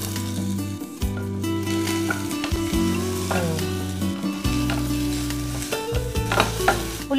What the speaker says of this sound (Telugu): ఉల్లిపాయ రంగు మారి లైట్ పింక్ కలర్ వచ్చేంత వరకు వేయించుకోవాలి